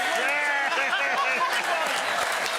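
Studio audience at an Australian football TV show applauding and cheering, a steady dense wash of clapping with voices mixed in throughout.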